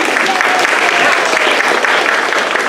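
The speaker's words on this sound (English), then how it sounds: "Give Ellis a big round of applause." A loud, close round of applause from a summer theater audience welcoming a child volunteer, dense clapping sustained evenly from start to finish with some voices mixed in.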